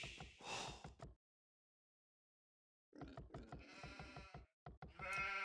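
Sheep bleats in the video game Age of Empires II, a few short bleating calls, then a gap of silence, then more bleats and clicks, clear and close.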